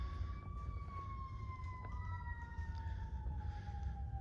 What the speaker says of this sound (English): Here's some sirens from the fire department.